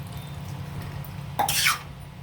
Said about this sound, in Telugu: ఇప్పుడు మనం వాటర్ వేద్దాం ఇందులోకి.